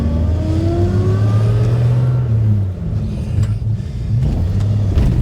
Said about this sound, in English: Oh, that engine.